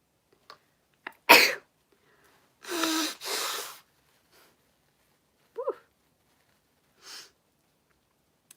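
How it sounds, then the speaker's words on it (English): A single sneeze bursts out close to the mic after a quick sniff, followed by a couple of breathy exhales and faint sniffles in near silence. "And here comes my sneeze."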